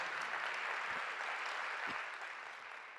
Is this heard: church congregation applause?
yes